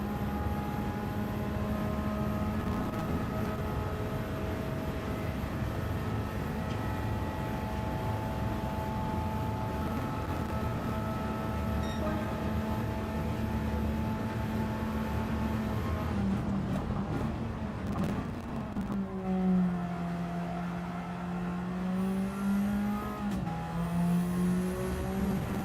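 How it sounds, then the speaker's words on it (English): A turbocharged Camaro race car in a racing video game holds a steady, droning engine note with a puffing turbo, then shifts and revs up and down through gears near the end. "Hear the old turbo puffing away."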